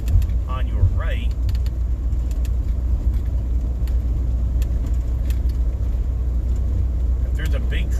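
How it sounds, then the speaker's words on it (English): A big truck and other traffic pass on a rural road heard from inside a moving car, a loud continuous low rumble with brief bursts of voice-like sounds near the start and end. "Now here comes a big truck and some other traffic"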